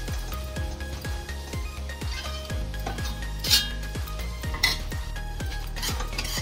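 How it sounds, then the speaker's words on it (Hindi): Masala spices for egg masala frying in a hot pan, a steady close sizzle with a spoon repeatedly scraping and clinking against the metal pan in an uneven rhythm, with two brighter clanks. "यहाँ पे मसाले अभी भून रहे हैं, भूने में रखे हैं, अभी भूनेंगे ये अच्छे से।"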